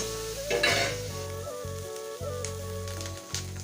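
Egg sizzling loudly in hot oil with red chillies that have already darkened in the pan, a steady frying hiss with a sharp burst as the egg hits the oil.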